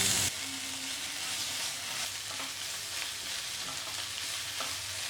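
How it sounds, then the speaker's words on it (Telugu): Onions, curry leaves and ginger-garlic paste sizzle in oil in a pan for an Andhra taro pulusu, a constant close crackle with soft stirring scrapes and no talking. "అల్లం వెల్లుల్లి పేస్ట్ని పచ్చివాసన పోయే వరకు వేయించుకోవాలి"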